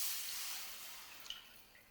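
Water pours steadily into a pan to start a sugar syrup for a coconut sweet dish, a close broadband rush that gradually eases over two seconds with a couple of small splashes near the end.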